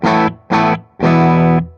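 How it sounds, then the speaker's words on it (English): Electric guitar played through a distortion pedal into a MESA/Boogie California Tweed 6V6 4:Forty head: three loud, sustained distorted chords, two short stabs and then a longer ringing one, alone with no talking. "Distortion pedal."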